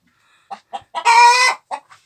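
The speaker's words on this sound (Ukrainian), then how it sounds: "Тепер показую своїх курей. Ви ж вони там так кричать, що сталося?" Several quick clucks lead into one loud drawn-out squawk from a nearby hen in a backyard coop, then a couple more clucks.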